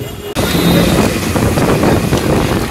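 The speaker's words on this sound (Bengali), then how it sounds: "হাওয়া দিচ্ছে ভালো" Strong gusting wind from Cyclone Remal on an empty city street near a park in Kolkata, a loud continuous roar buffeting the microphone after a brief quieter moment, with no voices.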